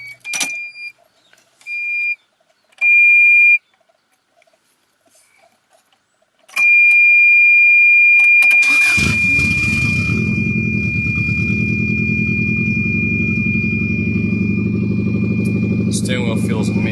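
A 1994 Subaru Impreza WRX engine cranks and catches after several short electronic chimes, then settles into a steady, close, rumbling idle that holds to the end.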